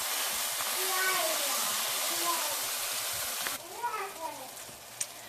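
Homemade turkey breakfast sausage patty hissing in a pan as it is pressed down, a moderate sizzle that thins after a few seconds, with a voice talking over it.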